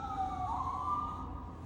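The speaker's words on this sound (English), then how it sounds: "There's an ambulance and it's out there." Ambulance siren outside a house, a wavering wail sweeping up and down at steady loudness, sounding somewhat distant through walls, with no talk over it.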